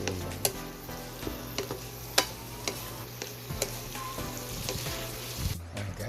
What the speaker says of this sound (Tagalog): Halo-haloin lang.